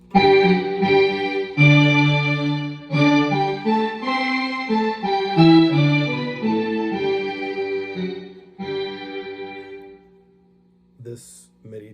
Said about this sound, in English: Roland GR20 is currently on the Synth Orchestra bank and patch number